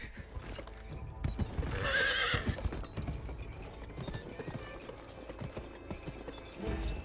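Horse in the video game GUN gives a loud whinny near the start while hoofbeats clip-clop steadily underneath, galloping rhythmically through the rest of the stretch among game sound effects.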